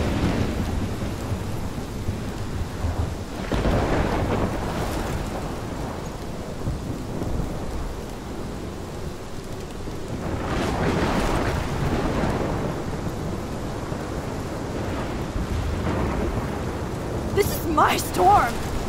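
A thunderstorm with heavy rain over Arcadia Bay in a video game: steady downpour throughout, with deep rolling thunder swelling twice and a sharper crack near the end.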